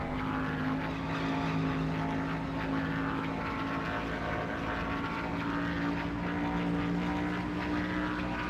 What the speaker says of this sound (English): No music, just engine sound and Old Man Dale.